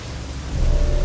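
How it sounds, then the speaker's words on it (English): Steady rain falls on the Juno Beach map in the Company of Heroes video game, a dense, even hiss of drops with a low rumble that grows slightly louder, with no voices. "The first thing you'll notice is that it's raining."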